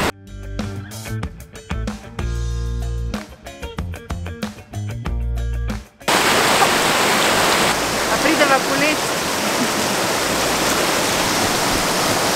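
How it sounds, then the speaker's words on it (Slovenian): Water rushes loudly and steadily from a nearby stream or falls, a dense continuous roar filling the second half after an earlier stretch of music. "Je pa lepo, ali ta zvuk vode in a veš, tako blizu, a tako daleč."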